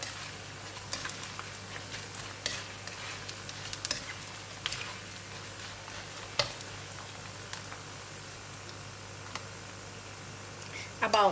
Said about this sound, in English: For double fry, we're just going to put in very quickly and take it out.